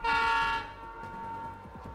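A train horn blares loudly in Escape from Tarkov, a sustained harmonic honk for about half a second, then fading into a quieter rumbling tail of rail noise.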